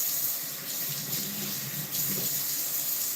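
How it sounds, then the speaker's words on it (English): Hands being washed under a running tap, a steady close splash and gush of water that continues throughout, with slight shifts as the hands move in the stream. "Let me wash my hands."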